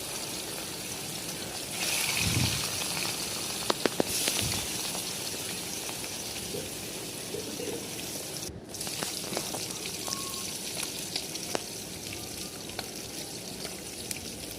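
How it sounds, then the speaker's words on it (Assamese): Fish sizzling in hot oil in a kadai, a steady broad hiss with faint pops and crackles running throughout, close by, with no talk. "তেল দি কাৰণে মাছখিনি দিছোঁ। মাছখিনি ফ্ৰাই কৰি ল'ম।"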